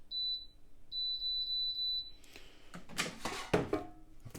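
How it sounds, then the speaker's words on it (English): An Aldi air fryer's control panel gives a run of short, high electronic beeps as it is set to 200 degrees, followed by close clattering and handling noises. "I'm going to get the air fryer on, 200 degrees."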